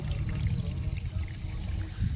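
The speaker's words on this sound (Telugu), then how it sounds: "ఈ విధంగా మన స్ప్రేయర్ పంపులో నీటిని పోసుకొని" A close, steady pour of water with a low gurgling rumble as it fills a sprayer pump tank, continuing without pause.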